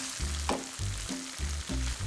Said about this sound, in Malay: Tuang masuk bahan kisar dan tumis sampai pecah minyak.